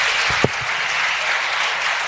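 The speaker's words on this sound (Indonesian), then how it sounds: "Tepuk tangan untuk Samsul Huda" An audience claps steadily for a guest named Samsul Huda at an Islamic religious study gathering, a dense, even wash of applause lasting the whole moment, with a brief louder clap and a low voice near the start.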